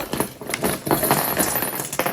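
Small items such as an old chapstick and plastic wall plugs tipped from a Bath and Body Works bag onto a table: a short burst of clattering, rattling knocks and rustling, close up.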